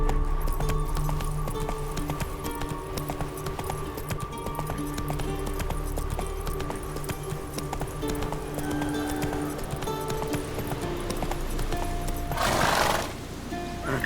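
Roach the horse gallops in The Witcher 3: Wild Hunt, a steady rapid clip-clop of hooves running under continuous game ambience, with a brief louder rush of noise near the end.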